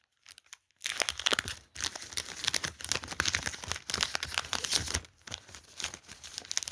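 Halloween variant Pokémon card packs being torn open and handled, loud close bursts of crinkling foil wrapper and tearing with short pauses between, no voices.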